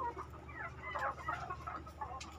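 Several chickens cluck softly in short bursts, quiet and close, with no talking.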